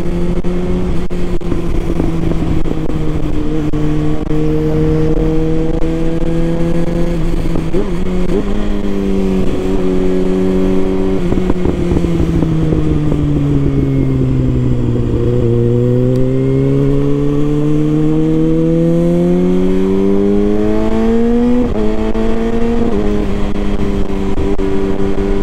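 A ZX6R motorcycle engine revs and drones steadily, pitch rising and falling through several throttle swells, with occasional sharp pops from the exhaust.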